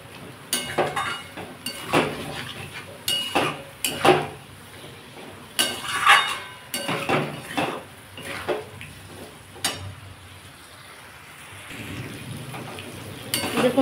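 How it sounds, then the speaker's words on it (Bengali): A spice mixture with cashew nuts is stirred in a pan for a pointed gourd and potato curry, with a sizzling wash under a run of sharp spatula scrapes and knocks against the pan. "এটা একটু নাড়তে হবে, কারণ এতে কাজু বাদাম দেওয়া আছে"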